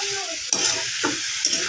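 Spices and potato masala are stirred and fried in a pan: close, repeated scraping strokes about every half second over a steady sizzle.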